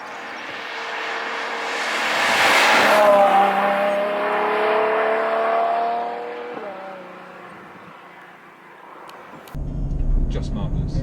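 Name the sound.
Ferrari GTC4 Lusso V12 engine sound with valves open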